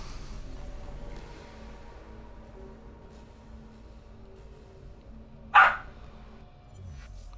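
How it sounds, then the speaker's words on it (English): A single short dog bark sounds from another room, sharp and moderately loud, standing out over a quiet low hum during a live game broadcast. "That'd be my dog."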